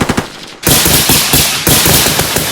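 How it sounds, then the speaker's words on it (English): Rapid bursts of gunfire ring out during a section's tactical smoke drill, beginning with a few sharp shots and then breaking into loud, dense, continuous volleys that sit close and overlap with no speech. "rapid fire!"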